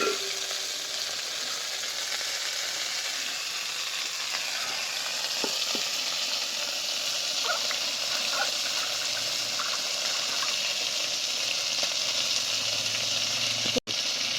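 Okra frying gently over low heat in a pan, a steady soft sizzle with faint stirring clicks throughout, continuous and close, no voices.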